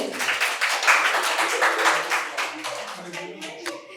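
Audience clapping for a quiz prize winner at a medical college event, steady rapid hand claps at moderate distance, fading toward the end.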